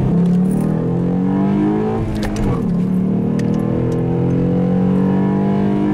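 A car engine fitted with aftermarket headers drones steadily from inside the cabin, its pitch dipping and climbing again as it accelerates, with a throaty exhaust tone throughout.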